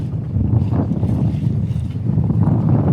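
Steady, breezy wind buffets a sailboat as it approaches a mooring under sail. A continuous low, rushing roar with gusty microphone noise runs close and loud throughout.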